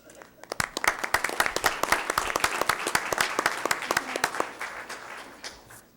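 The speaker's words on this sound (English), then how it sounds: "Please rise. We can applaud you as well." Audience at a school board meeting applauding: a steady round of many hands clapping at close range for about six seconds, with sharp individual claps standing out and a voice or two murmuring underneath.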